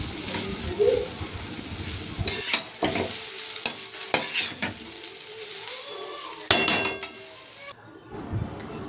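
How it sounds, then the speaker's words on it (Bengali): A spoon scrapes and clinks in a pan as chow mein with spices is stirred and fried, irregular close scraping and knocks over a low steady sizzle. "এবার একটু নাড়াচাড়া করলেই চাউমিন রেডি হবে।"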